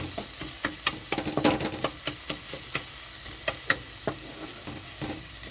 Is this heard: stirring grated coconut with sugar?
yes